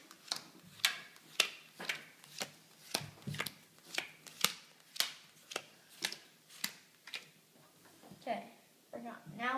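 Playing cards are dealt one by one into piles in a steady rhythm of soft snapping flicks, about two per second, with quiet handling noise underneath; near the end a person begins speaking.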